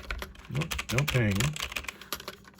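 Typing on a used Logitech G413 mechanical keyboard from a thrift shop, a rapid patter of clicky keystrokes heard under and between a man's speech.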